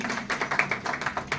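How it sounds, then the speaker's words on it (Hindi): Audience applause in a college hall at a health talk on sleep, a brief burst of fairly faint, steady hand clapping from a seated crowd. "जोरदार तालियां।"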